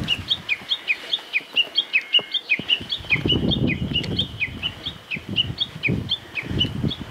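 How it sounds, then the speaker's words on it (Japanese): A Japanese bush warbler (uguisu) sings above 2,000 m on Tengu-dake in the Yatsugatake mountains, a quick string of bright chirps repeating steadily at mid-distance over low rustling and footstep-like thuds on the trail. "標高2000以上でウグイスいるんだ。"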